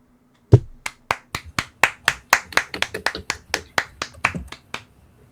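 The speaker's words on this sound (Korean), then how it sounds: "박수 한번 쳐주시죠들." Several people clap together on a video call, about twenty sharp, distinct claps in a loose uneven rhythm, picked up close and clear through the call audio, with no talking over them.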